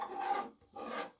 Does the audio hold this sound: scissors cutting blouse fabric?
yes